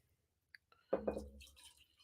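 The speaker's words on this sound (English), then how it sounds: "Just pouring a glass of the Glühwein." Glühwein, a hot spiced wine, splashing and trickling into a glass for about a second, with a small clink beforehand and faint dripping afterward in a quiet room.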